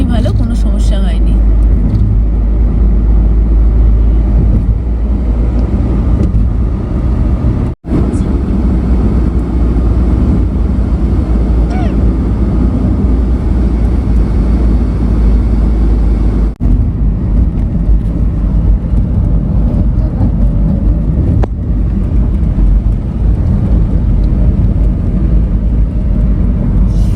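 A car drives along Krishnanagar Road on the NH-13/NH-27 route from Kolkata to Siliguri, giving a loud, steady interior rumble of engine and road noise for the whole stretch, with a voice speaking over it.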